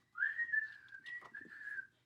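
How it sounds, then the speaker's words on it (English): A person whistles a short, clear tune up close, holding a steady bright tone with a few quick slides and breaks, alone in a quiet room. "He whistled all the way there."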